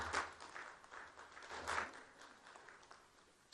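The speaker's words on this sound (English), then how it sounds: "Smattering of applause." A thin smattering of applause from a small audience in a Hamilton city council chamber, with a few scattered claps rising and fading over a few seconds at moderate distance.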